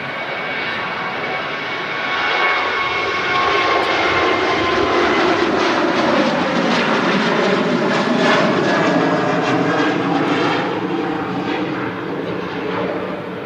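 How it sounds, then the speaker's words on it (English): Boeing 737 Max airliner at windy Manchester Airport, a steady loud jet engine roar that swells and holds for over ten seconds with wind noise mixed in, no voices. "One of the ways I've become familiar of identifying the Max is not only the engines are huge, but you also get the really high nose gear."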